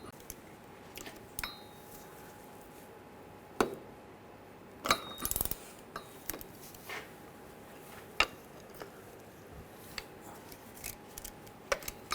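Ratchet clicks while loosening the driveshaft bolts on a 2009-2010 BMW 535i xDrive with a 3.0L inline-six, a pry bar holding the shaft still; sparse, sharp metallic bursts come in short spaced groups, close and alone without talk.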